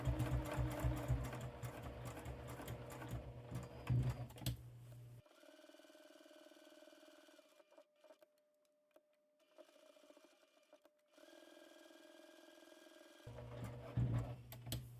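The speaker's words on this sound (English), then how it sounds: "I'm going to go ahead and stitch all the way around just to reinforce all the edging" A sewing machine stitches around the edge of a scrap-fabric bookmark, with loud bursts of rapid mechanical stitching at the start and end and a softer, steady hum with pauses in between.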